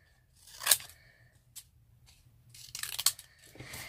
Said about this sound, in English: I'm just going to use a pair of these fancy edge scissors I'm just going to cut round my sentiment